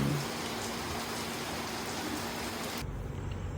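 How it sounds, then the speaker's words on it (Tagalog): Steady rain falls outdoors at a beach area in Dingalan, Aurora, a constant soft hiss that drops away abruptly near the end. "Pero tignan nyo naman, umulan, guys."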